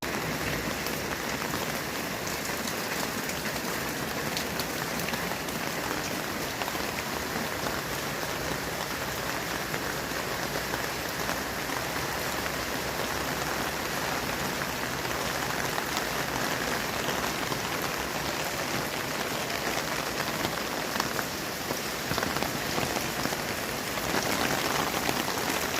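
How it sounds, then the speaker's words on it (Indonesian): Heavy rain at dawn near a mosque in Jatimulya, Bekasi, a dense unbroken hiss of drops pounding surfaces, loud and steady throughout with no voices. "ketika hujan lebat seperti ini"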